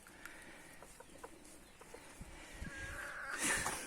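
Roosters and hens cluck and squawk at close range, several sharp calls scattered through, rising to a louder burst of agitated cackling at the end.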